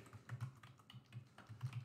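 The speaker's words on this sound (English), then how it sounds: "So if I just type that in" Quick, light clatter of keys on a computer keyboard as a web address is typed in, a short uneven burst of taps heard close and alone.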